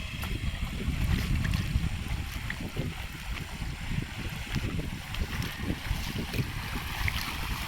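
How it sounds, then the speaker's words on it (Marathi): Steady rushing of a small waterfall flowing through a narrow gap at Barvi Dam, a continuous broadband wash with low rumble, fairly close and constant throughout, no voices. "छोटासा वॉटरफॉल आहे. छोटंसं गॅप आहे, त्याच्यातून हे पाणी वाहत आहे"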